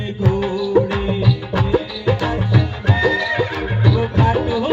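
A horse neighing as a sound effect, several loud whinnies repeated close up in quick succession, with faint hoof clip-clop underneath.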